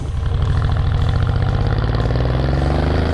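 Deep, steady V8 rumble from a Mercedes-Benz GL 63 AMG at part throttle, a continuous low throbbing drone heard up close and loud with no voices.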